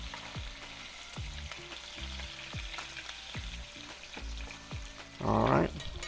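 Pork belly for miso ramen fries in a pan with a steady sizzle, punctuated by repeated soft thumps of stirring or shifting, and a louder sputtering burst near the end.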